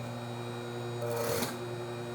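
A sewing machine runs steadily, top stitching a pressed-down facing on a basic bodice, with a low continuous hum that swells slightly in the middle of the clip.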